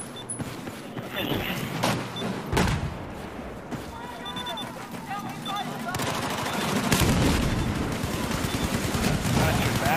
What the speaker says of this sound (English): Good luck trying to make it, because they're already shooting you